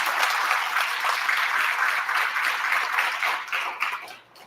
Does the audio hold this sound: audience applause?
yes